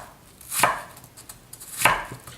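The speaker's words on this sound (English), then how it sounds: "I'm going to go ahead and make my matchsticks" Two sharp knife chops through an apple on a cutting board, cutting it into matchstick pieces, with a quiet pause between the strikes and no talk.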